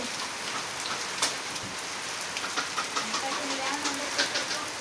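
Steady rain falling, with a constant hiss and scattered drops pattering on a surface, fairly close, no voices.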